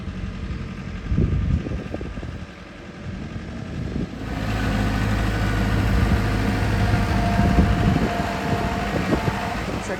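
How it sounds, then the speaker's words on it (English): A low, steady tractor engine rumble that grows louder and fuller partway through as the tractor moves closer, with faint voices underneath. "Here comes Jake now with the tractor."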